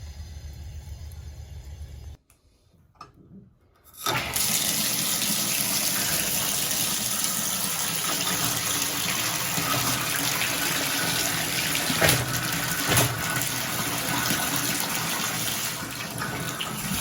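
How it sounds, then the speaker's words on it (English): Water rushes steadily through a rebuilt old Delta tub and shower valve with diverter, a loud continuous gush that starts after a brief quiet gap and keeps running close by without talk. "Ready to cut the water on."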